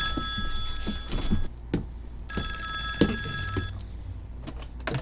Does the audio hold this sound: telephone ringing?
yes